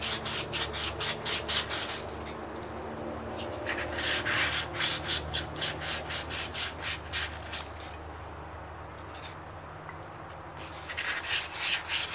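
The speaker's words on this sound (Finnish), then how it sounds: "Tässä samalla kun mä hion ja hinkutan" A brake part from a Valmet 602 tractor is hand sanded and scrubbed, with steady rhythmic back-and-forth rasping strokes that come in bursts separated by brief pauses, close up.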